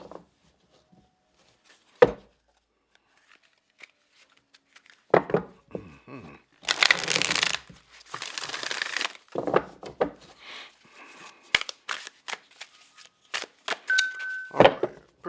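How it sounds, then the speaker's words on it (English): A deck of tarot cards being shuffled: scattered soft taps and slides, then a dense papery riffle of a few seconds, followed by more irregular card flicks and shuffling handling at close range. "All right, pretty good enough shuffle here"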